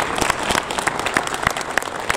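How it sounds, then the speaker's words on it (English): Audience applause at a university gathering in Kuala Lumpur, a dense burst of claps with sharp individual hand strikes standing out, steady and fairly loud throughout. "Give yourself a big applause."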